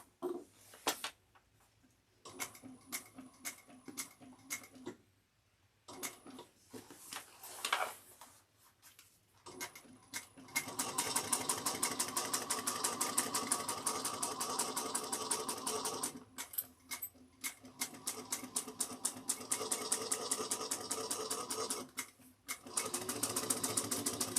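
A sewing machine stitches a quarter-inch seam around a backpack, first in short stop-start bursts with quiet gaps, then in a long, fast, rattling run close by, pausing briefly before resuming.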